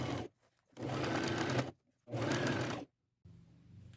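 A sewing machine stitches sleeves onto a thrifted blouse, running in three steady bursts of rapid mechanical whirring separated by short pauses, close and fairly quiet.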